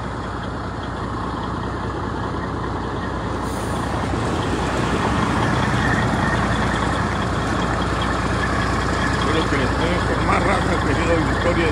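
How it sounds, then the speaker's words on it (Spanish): Heavy trucks rolling past on a road at night, continuous loud engine drone and tire roar that swells slightly toward the end, with faint background activity and no clear speech. "Están pasando los camiones con un lado."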